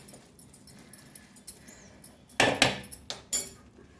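A metal spoon clatters and scrapes against a pan while stirring spicy Punjabi-style Maggi noodles, with scattered light taps followed by a few louder, sharp clanks near the end, close and without voices.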